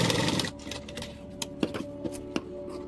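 A sewing machine stitches across a folded shirt collar, a whirring run of the needle at first, then a handful of separate mechanical clicks and taps close by.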